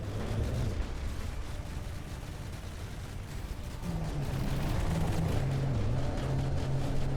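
Battleship guns firing during a naval battle in From the Depths, a dense, continuous rumble of booming shots blending into a steady roar, heavy and loud throughout.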